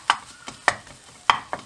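Four quick scraping strokes as beef tantuni is stirred in a pan on the stove, each stroke a short sharp scrape separated by brief pauses, close and fairly clear.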